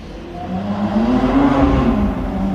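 A Lamborghini SVJ supercar revs loudly and close by in the street, its engine tone rising and swelling for a couple of seconds against a thick roar.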